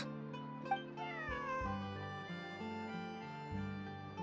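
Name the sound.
cat meowing in Genshin Impact video game cutscene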